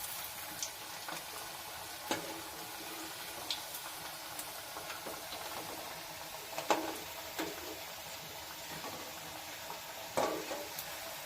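Semolina (sooji) bonda dough balls deep-frying in oil on a medium flame, a steady soft sizzle with scattered sharp pops and ticks throughout.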